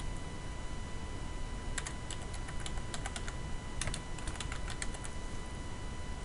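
Steady typing on a computer keyboard while entering a contact name into sales software, clicking keys in short irregular bursts over a low constant background hum.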